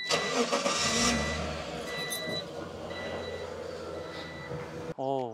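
A Honda engine in a 1999 car cranks and turns over, then settles into a steady low idle rumble with some mechanical clatter, heard close.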